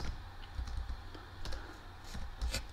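Fingers tap out a one-time login code on a computer keyboard, a close run of uneven clicks and key presses with brief pauses between bursts, no voices.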